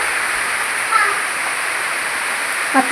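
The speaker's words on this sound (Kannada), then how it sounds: "ಮಳೆ ಬಂತು, ಮಳೆ." Heavy evening rain pours down in a dense, continuous hiss that stays steady and loud throughout, with no breaks.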